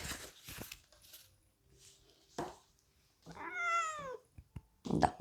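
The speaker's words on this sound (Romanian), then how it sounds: "Da, motanul e supărat." A tomcat gives an upset, drawn-out meow, loud and close, set among quiet rustles and clicks with brief pauses before and after.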